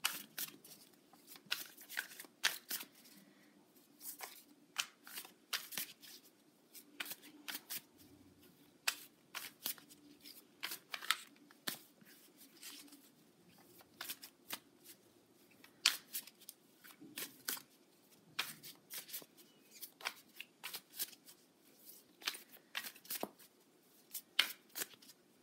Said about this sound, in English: I'm going to pull a card from my moon deck